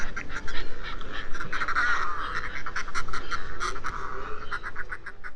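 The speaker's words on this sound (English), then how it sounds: "There's another one that's just come in to join its partner, and they're chattering away." Fulmars chatter at a nest on a coastal cliff, a busy stream of rapid, throaty cackling calls from close pairs, continuous over a faint background of wind and surf.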